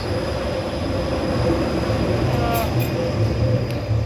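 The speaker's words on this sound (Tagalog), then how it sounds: "tingnan nyo nga mga ka-viewers sa likod ko. Ayun, yun yung train." Train rolling past close by near a supermarket on a German street, a steady, continuous rumble of wheels and carriages with faint squeal, heard alone.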